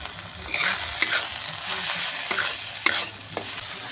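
Chopped tomato and spices fry for rajma in a pan, with a close, dense sizzle broken by several sharp scrapes and knocks of a spoon as the mixture is stirred.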